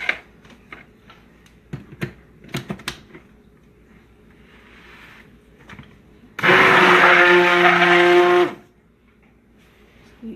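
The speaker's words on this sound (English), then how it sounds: "And the rest of that's going to get hit by the stick blender." A stick blender whirs loudly for about two seconds as it mixes a coconut milk bath product scented with cedarwood and lemongrass, after quiet clinks and handling noises.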